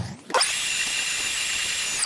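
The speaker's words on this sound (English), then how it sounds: "I get a shop vac, sweep that all out" A shop vac runs steadily at close range, sucking rust and debris out of a boiler's combustion chamber, starting abruptly with a high whine after a short pause and holding a constant loud drone.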